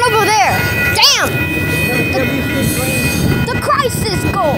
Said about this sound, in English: Wait, there's two trains over there.